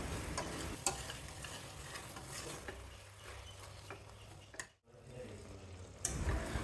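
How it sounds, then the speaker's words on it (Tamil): Mushrooms frying in a pot for a one-pot mushroom biryani, stirred with a spoon: a steady close sizzle with scraping and clinking strokes throughout, briefly dropping away near the end before resuming. "அடிக்கடி கிளறி விட்டுட்டே இருக்கணும்"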